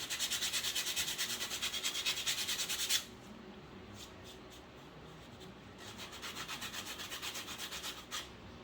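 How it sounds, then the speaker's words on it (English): Rough edges of Dollar Tree craft pieces are sanded by hand in quick, rhythmic back-and-forth rubbing strokes, close and fairly soft, pausing for a few seconds with stray scratches before the strokes resume. "I'm just going to sand down the edges because they are rough"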